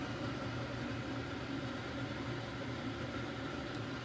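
Pork adobo Bicolana style, made with meat tenderized in baking soda, boils hard in a pot as a steady, dense bubbling hiss that stays even and close throughout, with no talking.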